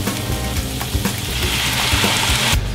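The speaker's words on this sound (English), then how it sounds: "Give it a few good stirs and let that simmer for 30 to 45 seconds until the alcohol dissipates" Chorizo with tequila bubbles and sizzles in a pan while a spoon stirs it, a loud, close frying hiss broken by quick scraping strokes.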